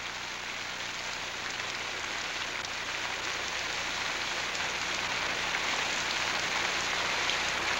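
Artificial rain pours steadily onto a hillside soil slope during a landslide experiment, a dense, even hiss of drops on the surface that holds unbroken and fairly loud throughout, with no voices.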